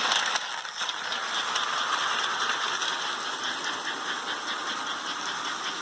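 An AC standard-gauge American Flyer 202 toy locomotive running steadily around its track, giving a continuous near mechanical whir and rattle of motor and wheels with no talk over it.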